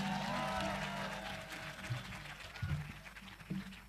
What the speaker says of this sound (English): Can we have a thunderous applause for all of them on stage?